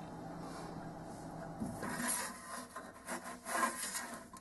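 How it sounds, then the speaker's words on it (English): A homemade scroll saw runs with a rasping, scraping cut through wood. A bearing on its disc rattles noisily in the yoke, and the sound grows louder and more uneven after the first moment. "The saw was a bit too loud because the bearing that was attached to the disc was making too much noise as it moved in the yoke part."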